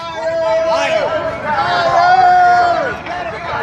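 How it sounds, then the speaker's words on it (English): Loud crowd hubbub at a political press event, a dense wash of many voices chattering and calling out close by, with a strong voice rising over the babble. "That is a loud crowd."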